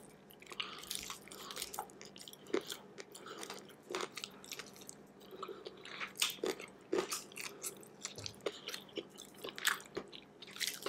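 Taco Bell crispy chicken wings being bitten and chewed up close, with repeated crunchy bites and wet chewing in an uneven rhythm throughout, no talking.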